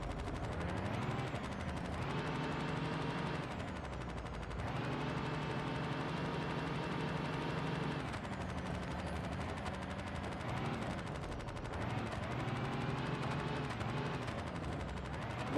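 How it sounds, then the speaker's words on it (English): A bus engine with a heavy knock, a loud continuous rapid hammering racket that swells and eases in waves as the revs rise and fall, close up and without talk. "The vehicle now has an engine knock."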